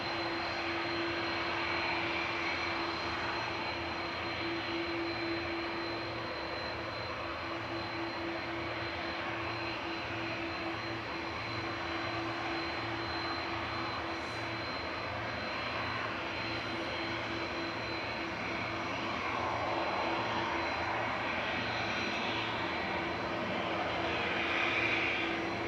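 A jet airliner departing Manchester Airport for Orlando, heard as a steady, fairly faint engine rumble and hiss that holds throughout with slight swells, no one speaking.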